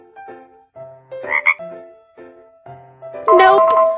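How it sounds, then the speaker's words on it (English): A few loud, close frog croaks in a BabyBus kids' game come in short bursts with brief pauses, and a voice-like tone runs between them. "Frog."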